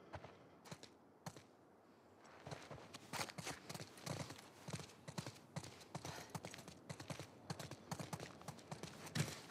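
Horses in the video game The Last of Us Part II clip-clop at a steady walking pace, hooves tapping rhythmically and fairly close, with a quiet stretch at the start before the hoofbeats settle into a continuous gait.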